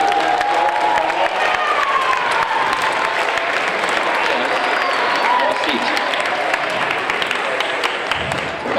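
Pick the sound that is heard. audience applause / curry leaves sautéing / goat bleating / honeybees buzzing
audience applause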